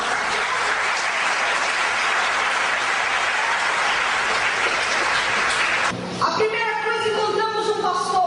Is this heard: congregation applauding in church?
yes